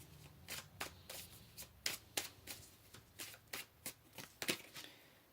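Tarot cards being shuffled by hand during a pick-a-card reading: a run of soft, irregular riffling snaps and slides over about five seconds, close and fairly quiet, with no talking.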